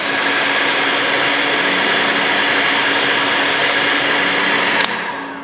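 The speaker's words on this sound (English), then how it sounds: "just get the old heat gun, and I'm gonna shrink that shrink wrap" A heat gun blows a loud, steady whooshing roar to shrink shrink wrap over a fishing knot on a ring-and-grommet kingfish rig. It runs unbroken and close for about five seconds, then cuts off with a brief click.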